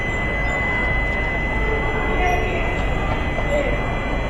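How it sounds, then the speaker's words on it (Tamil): The Madras to Nagarsol Express pulls out from platform 9 with a low, steady rumble of rolling wagons and a faint high whine, a constant close noise bed under light background chatter throughout. "Platform number 9லேருந்து கிளம்புதுங்க."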